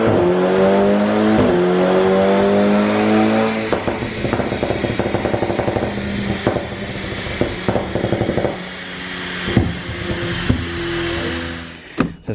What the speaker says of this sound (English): the 350 bhp stage 2 plus GTI.